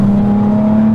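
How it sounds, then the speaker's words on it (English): Steady, loud engine drone from a Nissan Z breathing through twin Weber carburettors, heard up close as a continuous hum at constant revs. "those twin Weber carbs are just raucous"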